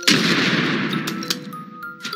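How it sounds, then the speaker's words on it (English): Repeater plants firing peas in the Plants vs Zombies game, a loud, dense burst of shooting that fades over about two seconds, with a few sharp pops and a steady tone near the end. "with these repeaters, is that they face the other way, so they shoot this way"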